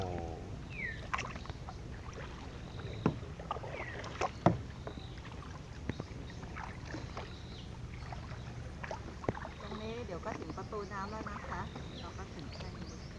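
A canoe paddled along a quiet canal in Bang Krachao, Bangkok, with soft water splashes and paddle knocks at irregular intervals, a few sharper clicks, ducks quacking and ambient birdsong, while people talk quietly nearby.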